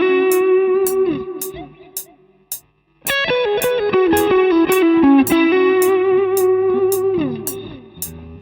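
Distorted electric guitar playing a rhythmic lick with effects, ringing sustained notes over a steady click, a short gap mid-phrase then a dense busy run, loud and close.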